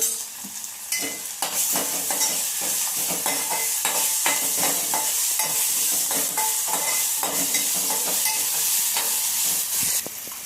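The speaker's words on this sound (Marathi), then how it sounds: "इथे मी आलं, हिरवी मिरची आणि लसूण ठेचून घेतलं आहे बारीक, ते टाकूया। ते मस्तपैकी मिक्स करूया।" Crushed ginger, green chili and garlic fry in a hot pan, with a loud continuous sizzle and frequent scraping and clattering as a spatula stirs them close up, no voices.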